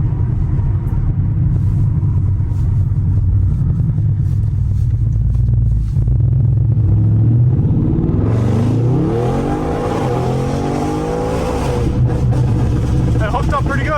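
A straight-piped Audi RS7 with about 800 hp rumbles deeply and continuously while driving, then revs up hard into a loud, rising roar that echoes off surrounding trees, with a person talking over it.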